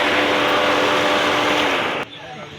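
Noisy second-generation Toyota Vios engine running with a loud, harsh mechanical whine and rattle, then cutting off abruptly near the end into a quieter hum.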